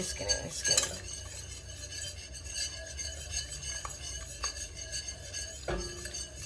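A whisk works through a soft Alfredo sauce for fettuccine in a pan, giving a steady scraping, clinking stir with a couple of louder knocks against the metal, close up and with no talking.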